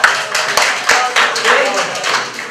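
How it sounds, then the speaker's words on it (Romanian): Scattered clapping from a seminar audience on parliamentary elections, several uneven bursts of hands mixed with murmuring voices and chatter around them. "Asta, aplaudați!"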